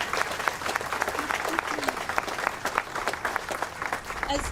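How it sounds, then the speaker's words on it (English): A crowd at the West Side Market groundbreaking ceremony in Cleveland gives a sustained round of applause, with many hands clapping densely and evenly throughout. "So please give a round of applause to them."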